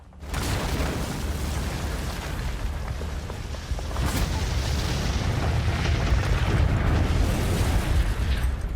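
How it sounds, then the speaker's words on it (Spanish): A huge explosion engulfs a bridge in World War II combat footage, a dense, sustained roaring blast with rumbling debris that holds loud throughout. "Una gran explosión envuelve el puente."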